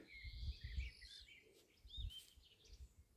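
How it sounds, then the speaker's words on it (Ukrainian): Faint birdsong of quick chirps and whistles drifts in from a distance over low, rumbling wind noise. "Пташки співають, все красиво."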